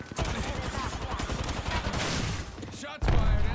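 Rapid gunfire from an Apex Legends match fills the scene as a dense, continuous burst of shots, with a louder, heavier blast near the end; game sounds are layered throughout.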